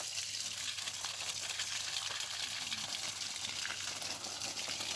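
Water sprays and gushes steadily while plants are watered in a home garden, a continuous hissing rush, faint and unbroken, with no voices.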